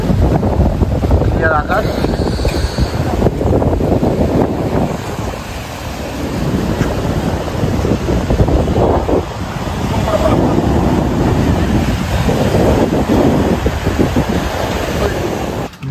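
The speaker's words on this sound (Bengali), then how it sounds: "এখন একটা দারুণ হাওয়া চলছে" Strong wind gusts at Digha beach buffet the microphone with loud, continuous roaring rumble, rising and falling in waves, while a voice speaks briefly near the start.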